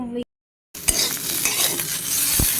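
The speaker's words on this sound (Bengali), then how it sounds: "এই যে আবার একটু আলু ভাজতেছি" Potatoes sizzle and crackle loudly in a hot pan after a brief silence, with occasional stirring clinks from a utensil.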